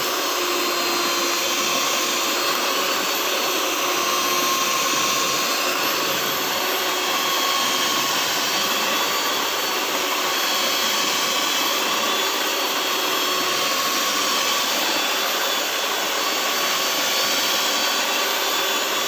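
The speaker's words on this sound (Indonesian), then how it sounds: "Mixer hingga benar-benar halus dan menteganya itu kembang menjadi warna keputihan seperti itu ya." An electric mixer beats butter at high speed for a layered lapis legit cake, giving a steady, loud, unbroken whir and whine that holds level throughout with no talking.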